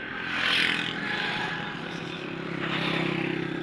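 Motorcycle arriving, its engine swelling to a near, loud rev and then easing into a rougher, steady running note with some rattle and clatter.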